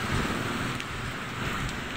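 Heavy rain falls outside a small shop, a dense, steady, loud wash of noise with no clear thunder.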